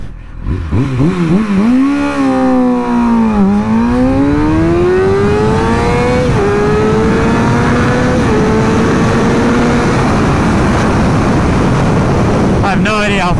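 A motorcycle accelerates hard from a standstill to 60 mph, the engine note climbing loud and close through several gear changes. Wind buffeting rushes over the microphone throughout.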